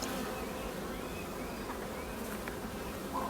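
Honeybees buzz in a hive at an apiary, a steady, dense hum close by with no other sounds.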